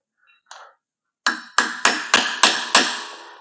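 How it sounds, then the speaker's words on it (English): A metal lathe drive spur is driven into a wood blank with a hammer: a brief light knock, then six sharp, evenly spaced blows that ring briefly and come close and loud with no talk. "I'm going to pop out this little drive spur, and I'm going to hammer that down in there"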